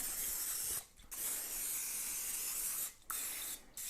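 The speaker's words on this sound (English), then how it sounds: "So let's just spray a little bit of Pam." Pam cooking spray hisses onto raw chicken being readied for a Pitts and Spitts smoker, in three close, steady bursts separated by brief pauses.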